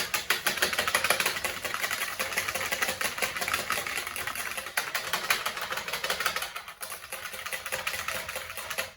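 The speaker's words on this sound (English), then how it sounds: "So you get the whisk, give it a good whisk up." Whisk beating a vinaigrette in a bowl, a steady, fast, close rattling scrape running continuously for about nine seconds, with a brief dip near the end and no talking.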